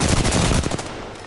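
Rapid gunfire in Apex Legends rattles out as a dense, loud burst of shots that quickly fades into softer trailing pops, with no talking over it.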